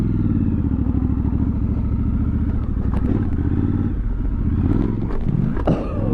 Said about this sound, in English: Giant freaking Triumph Scrambler going over logs.